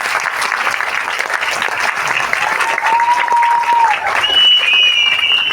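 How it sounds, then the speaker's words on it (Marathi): Loud, steady applause and clapping from a crowd honouring the women at a ladies' special Vat Purnima program, sustained throughout, with a faint voice and a brief feedback whistle rising above it. "लेडीजने यांच्यासाठी एकदा जोरदार क्लॅपिंग"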